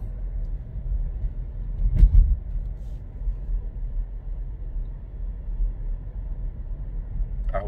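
A Volkswagen T-Cross Highline cruises at night in fifth gear at low revs, its cabin quiet apart from a soft, steady low rumble of engine and road, broken by one brief thump.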